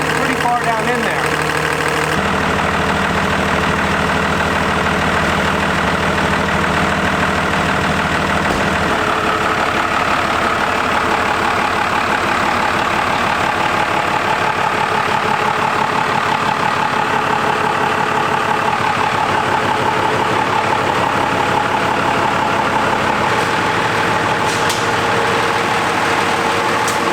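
Diesel truck with newly installed compound turbos idling just after its first start, a loud steady knocking rumble with a turbo whine running through it, with voices talking over parts of it.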